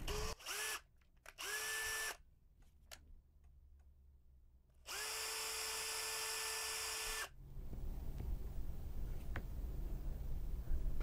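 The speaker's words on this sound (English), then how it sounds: "So I'm gonna have to drill it out." A power drill boring out the hub of a small metal gear on an old toy train, running in several loud bursts with steady whine, a long sustained run, then stopping.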